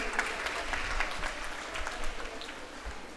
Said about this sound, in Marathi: आपल्या सगळ्या भगिनींकडून आपण जोरात टाळ्या वाजवून शुभेच्छा देऊया